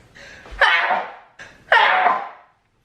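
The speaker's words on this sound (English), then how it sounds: "I'm about to sneeze." Two forceful sneezes in quick succession, each preceded by a short intake of breath, loud and close.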